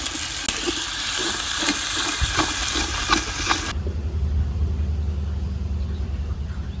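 Turmeric, chili powder and salt sizzle steadily in a pan with ginger, garlic, cumin and onion in a village kitchen, loud and continuous before dropping abruptly to a low, muffled rumble.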